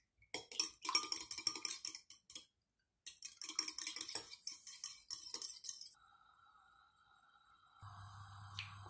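Quick, rapid clinking taps of a utensil whisking eggs in a bowl in two bursts, separated by a short pause, followed by a low hum.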